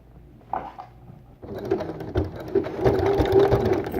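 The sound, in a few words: sewing machine sewing a T-shirt hem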